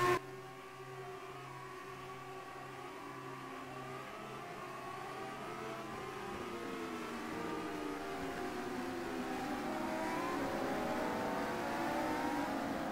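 Formula race car engines whine and rise steadily as cars roll around the Istanbul circuit on a warm-up lap in a racing video game, with several overlapping engine tones climbing in pitch at a moderate distance.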